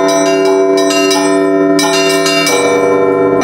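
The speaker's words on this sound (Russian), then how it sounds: "под праздничный колокольный звон достигли Спасского храма в Усове" Festive church bells peal loudly and continuously for an Orthodox religious procession arriving at a church in Usovo, overlapping strikes ringing out in a bright, dense clangour.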